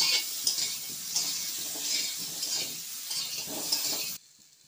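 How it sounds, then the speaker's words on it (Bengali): Steady crackling sizzle of potatoes frying in hot oil for a mutton curry with jackfruit seeds, with occasional scrapes and stirs of a utensil in the pan, then abruptly cutting off. "প্রথমেই আমি আলুগুলো একটু ভেজে নেব।"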